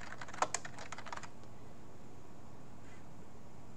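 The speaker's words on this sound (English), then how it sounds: "I want you to type your first and last name." A name typed on a computer keyboard: a quick run of close, light key clicks in the first second and a half, then a quiet room hiss.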